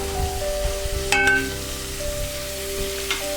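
Onions and peppers frying in a pan for Mexican chicken, a steady close sizzle with a few brief clinks and no talk.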